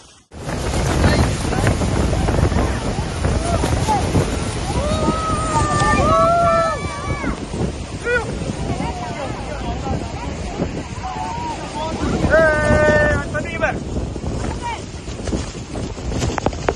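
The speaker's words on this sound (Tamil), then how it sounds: "அவ்வளோ காற்று." Strong wind buffets the microphone aboard a Niagara cruise boat, a loud, steady roar with water and engine noise beneath, while people talk and call out over it.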